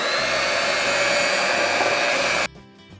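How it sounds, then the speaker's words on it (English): An electric hand mixer whirs steadily through banana bread batter of flour, salt and cinnamon, a loud continuous motor drone that cuts off sharply near the end, leaving only faint clinks. "we just go ahead and mix everything together"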